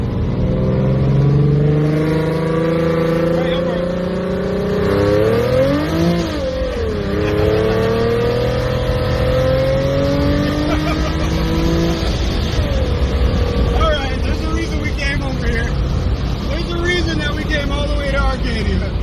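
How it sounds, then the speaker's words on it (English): A Procharger-equipped car pulls full throttle in second gear, its engine note sweeping up loud and close with a brief dip and rising harmonics, tires spinning, while people talk excitedly over it. "Alright, second gear full."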